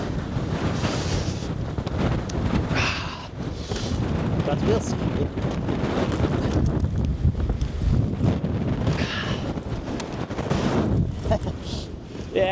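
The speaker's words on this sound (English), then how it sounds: "as you probably hear, it's a little bit windy." Strong wind buffeting a microphone outdoors near an Icelandic volcano eruption site, a constant loud roaring rush with gusty swells, while someone talks briefly.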